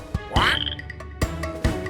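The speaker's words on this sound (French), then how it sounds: "La grenouille, grenouille, grenouille." Frog croaking in a French children's nursery rhyme, several loud close croaks and calls in quick uneven succession, with no talking.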